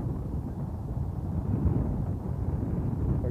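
Steady, blustery wind roars across the microphone with a low rumbling buffet on an overcast, foggy San Francisco Bay, continuous and fairly loud throughout, no voices.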